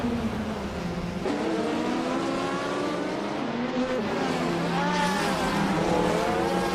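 A 1982 Ford Mustang and other cars in a racing video game, engines droning steadily with rising and falling pitch as they shift and accelerate, a continuous close roar throughout.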